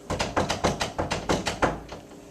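Repeated door banging from a played recording, about ten sharp knocks in a steady rapid rhythm followed by a pause and one last softer hit, loud and close with no talk.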